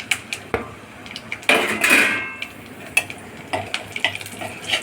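Cloves, cinnamon, cardamom, bay leaf, cumin, and green and dried chilies crackle in hot oil, with scattered sharp pops, a brief louder hissing flare and utensil clinks close by.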